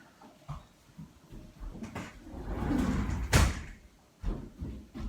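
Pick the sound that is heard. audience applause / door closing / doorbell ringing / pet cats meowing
door closing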